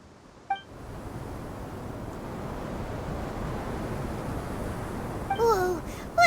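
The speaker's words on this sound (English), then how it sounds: "The wind's so strong. Is this a sandstorm?" A strong sandstorm wind in a fantasy action video game roars as a steady, even rush of noise. Short synthetic game chimes and beeps sound at the start and end.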